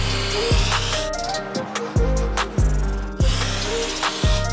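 Brake cleaner sprayed from an aerosol can onto a C5 Corvette brake rotor during a big brake upgrade, a loud continuous hiss in several bursts separated by brief pauses, alongside low mechanical hum.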